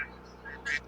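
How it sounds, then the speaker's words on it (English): Cartoonish duck quacks from a Roblox bird obby game, two short bursts close together, heard alone over a steady low game hum. "I don't think birds quack"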